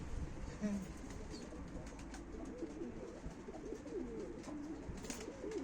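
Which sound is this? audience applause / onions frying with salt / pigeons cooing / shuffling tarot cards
pigeons cooing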